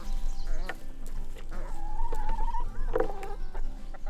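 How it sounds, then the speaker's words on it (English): Farmyard poultry sounds with a few scattered clucks and a drawn-out call, close by over steady low background noise. "I'm gonna have to let these chickens in."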